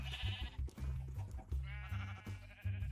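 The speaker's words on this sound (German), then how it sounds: "Komm, ihr seid jetzt freie Schafe" Sheep in Minecraft bleat several times in quick succession, close and clear with short pauses between calls.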